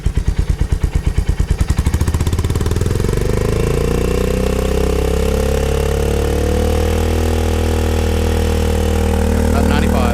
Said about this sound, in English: I don't know how high I'm revving it.